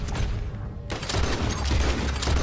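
Gunfire in Red Dead Redemption 2 comes as a quick cluster of loud shots with booming low thumps, close and punchy, over a short burst of game action.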